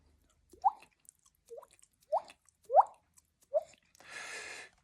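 A person's mouth imitates water droplets with five separate hollow plinks spaced about half a second apart, close and clear against silence, followed by a short breathy hiss at the end.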